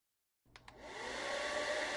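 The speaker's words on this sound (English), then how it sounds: "The faint hum of the hairdryer buzzed steadily" After silence and a couple of clicks, a salon hair dryer starts up and settles into a steady, loud, close hum that stays unbroken.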